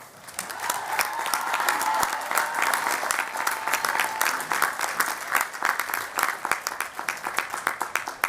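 Audience applauding graduates at a May 2023 undergraduate commencement ceremony, sustained dense clapping from a large crowd throughout, steady and loud with a faint tonal hum in the background.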